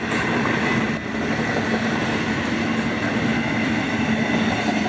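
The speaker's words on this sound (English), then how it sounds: "All right, monster train today." Florida East Coast Railway freight train rolling past close by, a loud, steady rumble of wheels and cars with faint clicking over rail joints.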